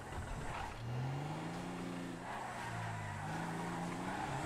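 A car in a GTA roleplay game slides and skids, its engine note dipping and climbing with squealing tires, loud and close, with no talk.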